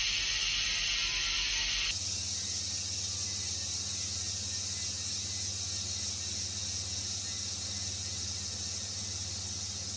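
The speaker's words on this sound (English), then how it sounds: "it's going to spin quite well, it will slow down quite quickly because of the pawls, the springs and the grease" Freehub pawls on a Hyper 2020 bicycle wheel with upgraded NTN bearings click as the wheel spins, a fast, dense ratcheting buzz that is loudest and brightest for the first two seconds, then holds as a steady, softer whirring rattle.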